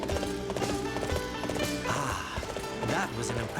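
Hooves gallop in a quick, steady clip-clop over loud game music in Dynasty Warriors 8 Xtreme Legends, with a short whinny from the horse.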